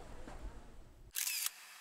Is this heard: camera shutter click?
yes